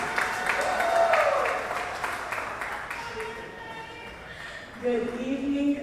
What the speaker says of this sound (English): can you clap your hands for Miss Betty?